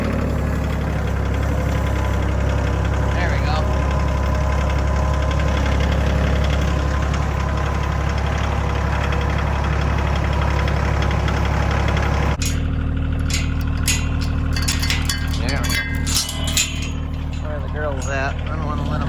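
A vehicle engine, likely a farm truck, runs steadily and loudly with a low drone throughout, its tone shifting abruptly partway as a gear change is made, with light clinking rattles after the shift.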